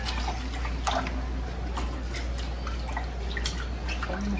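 Rice grains rubbed by hand while being washed in water: soft, irregular wet drips and sloshing clicks, close and fairly quiet over a steady low hum, with no talking.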